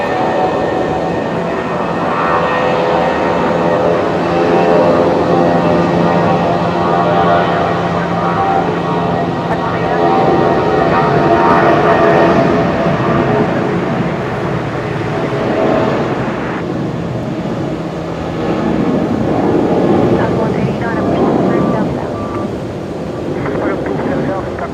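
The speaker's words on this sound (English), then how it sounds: "Jetstar 573 off to Melbourne tonight." A Jetstar airliner departs Brisbane Airport, its engines a loud, steady roar sustained for the whole stretch, with a commentator's voice partly under the noise.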